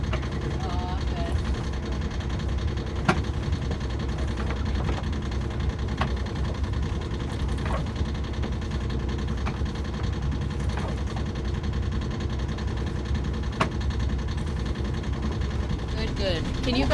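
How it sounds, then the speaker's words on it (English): A sailboat's diesel tractor engine runs in a continuous low, rumbling drone with faint ticking, heard steadily throughout. "It's not bad for a diesel. It's a tractor engine, so it does sound just the way it's supposed to."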